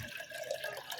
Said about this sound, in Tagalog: So, ayan, lalagyan natin ng tubig guys.